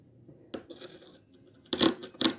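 Scissors cut through fabric for sewing an A-line top, giving a couple of short, close, crisp snipping bursts near the end after quieter faint rustling of cloth being handled.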